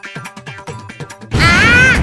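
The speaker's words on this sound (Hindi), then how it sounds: "इस बॉक्स में था पटाखा" Cartoon firecracker blast inside a box in a classroom comedy, one loud burst arriving abruptly after a run of quick tapping effects and sustaining as a bright, whistling roar.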